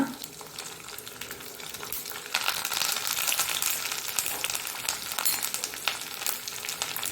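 Crushed garlic and mustard seeds sizzle steadily in hot oil for a tempering for Mangalore-style horse gram saaru, a continuous close crackle that swells slightly partway through.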